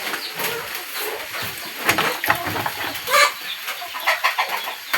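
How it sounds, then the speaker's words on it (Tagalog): Backyard chickens cluck and chatter while being fed on a windy day, a steady scattered flock noise with a few louder bursts, no talking. "Kumana tag pamhug sa manok."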